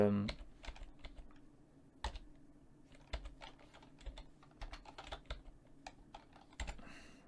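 Clicky keystrokes on a computer keyboard as a file name is typed, irregular taps in quick bursts, close and fairly quiet against a soft background hum.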